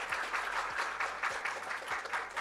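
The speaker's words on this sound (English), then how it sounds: "a round of applause, please." Audience applause after a panel at a live creator event, a lively, evenly pulsing burst of many hands clapping, moderately loud with no talk over it.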